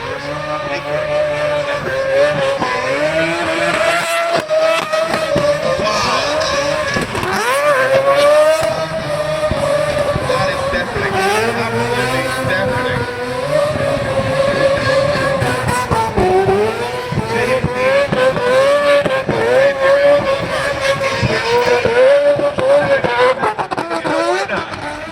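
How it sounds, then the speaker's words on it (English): James Deane's 4-rotor drift car, engine revving hard with rising and falling pitch as it slides, tires squealing, loud and close for a sustained run; voices are heard over it. "I heard the 4-rotor of James Deane."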